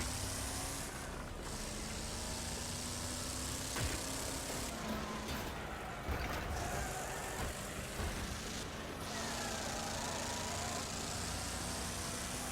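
Race car engines droning steadily in Wreckfest on the Hilltop Stadium oval, a continuous mid-level engine hum with shifting pitch from nearby cars throughout.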